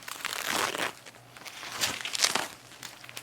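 Protective tape being handled and stretched off new exhaust tips on a 2025 Ford Explorer ST, crinkly rustling plastic with a few short crunches, close and moderately loud, no speech.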